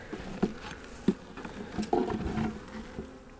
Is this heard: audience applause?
no